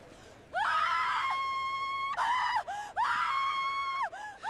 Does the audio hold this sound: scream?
yes